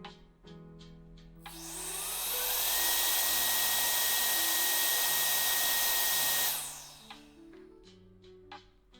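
A handheld Temu blower spins up and runs with a loud, steady airy roar and a rising whine, then cuts off, with a few clicks and knocks around it.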